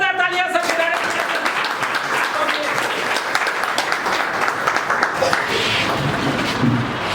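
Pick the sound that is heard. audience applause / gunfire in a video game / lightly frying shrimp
audience applause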